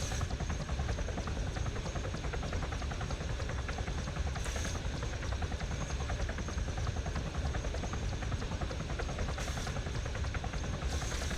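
A helicopter flies in the video game Warlords Redux, its rotor making a steady, dense, close-up thrumming chop that carries unbroken throughout with no voices.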